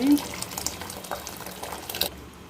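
Hot water poured into a pot of rice for Shimoga-style mutton biryani, a soft splashing and gurgling pour lasting about two seconds, then stopping.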